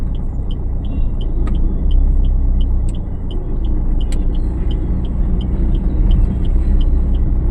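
Car engine rumbling steadily at low pitch from inside the cabin during a driving lesson, a continuous drone with a brief swell, and a faint high repeating beep or chirp ticking above it throughout.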